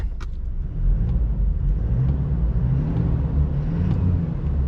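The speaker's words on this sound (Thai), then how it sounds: "เดี๋ยวผมลองไปฟังเสียงในรถนะครับ ท่อ g t c นิดหนึ่ง" Inside a lifted Toyota Fortuner Legender fitted with a GTC exhaust, the engine and exhaust give a steady low rumble heard from the cabin, with a click at the start and a slight swell after the first second, no speech.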